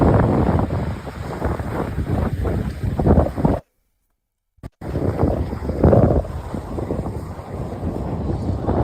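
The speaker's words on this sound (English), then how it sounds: "hopefully, you all heard the water" Ocean water washes against the beach at night on a windy evening, a steady close roar of surf and wind that cuts out briefly partway through and then resumes.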